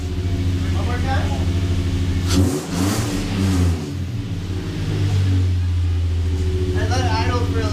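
A Nissan Frontier pickup with a full exhaust system idles close by, then gets one sharp rev that climbs and falls back, and it settles into a deep steady burble while people talk over it.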